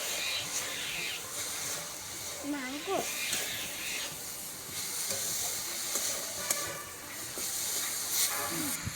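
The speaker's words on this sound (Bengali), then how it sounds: "এটাতে গুড়ের খেজুর গুড় দিয়ে নারকেল ভাজছি" Grated coconut frying in a pan with date palm jaggery, giving a steady sizzling hiss throughout, with a few stirring scrapes and a voice talking over it.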